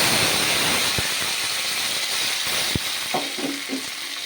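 Ground green masala paste with cumin and curry leaves fries in hot oil, producing a steady hiss and sizzle with a few sharp clicks and brief spattering pops, without talk.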